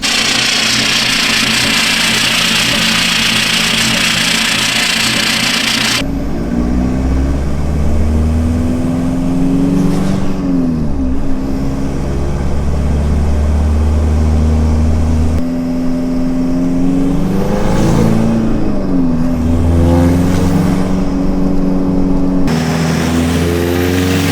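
A diesel-swapped Toyota Tacoma with untuned injectors runs loud and close, its engine droning steadily while the revs repeatedly climb and fall as it warms up and drives off, with a few abrupt cuts in the sound.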